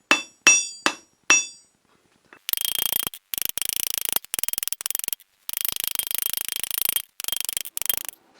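A forging hammer's peen strikes a steel crossbow bolt on the edge of an anvil, four sharp ringing blows followed by a string of rapid, close, bright metallic hits in bursts.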